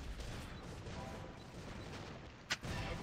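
Robots firing weapons in the video game Cosmic Break Universal, Misty Hollow map: steady rattling gunfire at moderate volume with a sharp crack near the end, under faint background game noise.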